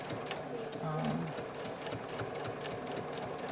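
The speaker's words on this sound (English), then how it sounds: "I am going to just back stitch a little bit" A sewing machine back stitching a zippered bag runs with a steady, close mechanical whir under continuous talking.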